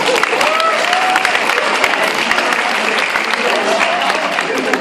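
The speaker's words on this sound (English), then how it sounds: "Mr. Marino, round of applause." Applause for a teacher at a high school leavers' speeches event, sustained crowd clapping with a few cheers and whistles rising above the dense, even patter.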